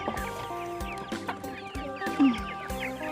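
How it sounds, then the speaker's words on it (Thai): Flock of about 150 young chickens clucking and crowing busily while waiting to be fed, a dense close chorus of repeated clucks with one louder squawk standing out. "เดี๋ยวตอนนี้จะไปเลี้ยงข้าวน้องไก่กันก่อน 150 ตัวนะคะ"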